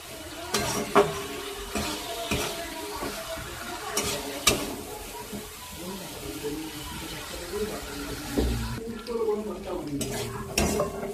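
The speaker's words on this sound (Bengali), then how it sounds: "এই যে আমাদের মাছ ভাজা হয়ে গেছে" Fish fries in a pan with a soft sizzle while a spatula scrapes and knocks against the metal in irregular bursts, up close, with faint voices in the background.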